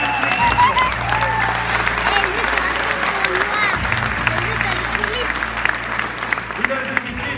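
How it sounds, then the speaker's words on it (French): Audience applause at the Tahiti Comedy Show, a steady dense clapping from the crowd throughout, with laughter and voices mixed in and a low hum underneath. "Messieurs, on les applaudit."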